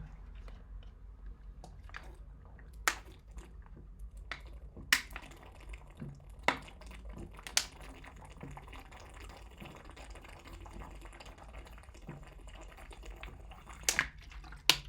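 Someone taking a drink of water on a break, with close gulps, wet mouth clicks and swallows at irregular intervals over a quiet background.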